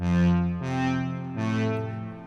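Three sustained synth or keyboard chords, each swelling in and ringing out with a spacious reverberant tail.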